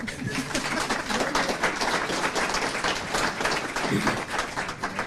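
An audience at a panel discussion applauds, steady dense clapping that fills the room for several seconds without pause, with no talking over it.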